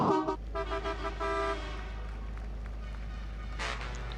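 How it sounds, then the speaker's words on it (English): A racing truck's horn honks as it heads into the pit lane at a 2021 FIA European Truck Racing Championship race at Zolder. Loud tonal toots fill the first second and a half, then a steady engine drone continues. "Norbert Kish, honking the horn, as is pretty much obligatory from Norbert Kish in towards the pit lane."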